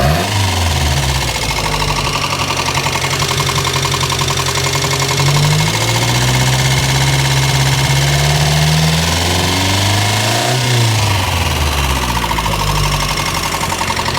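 A Chevy Luv truck engine idles loudly and close for a long stretch, a steady rough mechanical chugging with slight rises and dips in pitch, heard alone.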